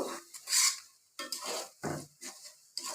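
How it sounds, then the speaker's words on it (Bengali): Garlic and five-spice seeds stirred in a frying pan, with a spoon scraping and clinking against the pan in short irregular bursts separated by brief pauses, close and fairly loud. "আমি এবার এর মধ্যে 5 ফোড়ন দিয়ে দেবো কিছুটা, দিয়ে আমি নেড়ে চেড়ে নিব"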